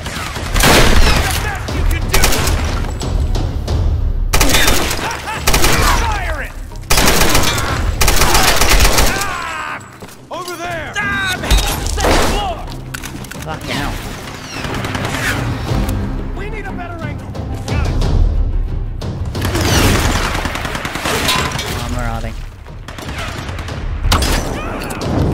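Rapid gunfire in the Tomb Raider video game, sustained bursts of automatic shots and heavy blasts over about twenty-five seconds, loud and close, with someone talking and shouting throughout.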